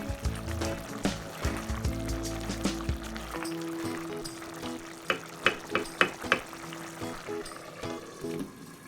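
A village-style mushroom curry with gravy is stirred in a pot over a low bubbling sizzle, with a run of sharp spoon scrapes and knocks in the second half.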